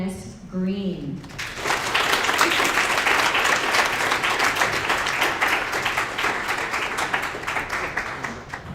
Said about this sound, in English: So everybody give me a warm round of applause for the fabulous Dennis Green.